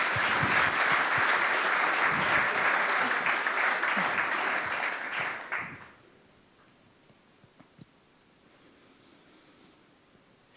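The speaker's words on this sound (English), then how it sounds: "can we please give a big round of applause for Tessera Crosby" Audience applause at a TEDx Twente talk, a loud sustained burst of clapping from a large crowd that cuts off sharply after about six seconds into a quiet room with a few faint taps.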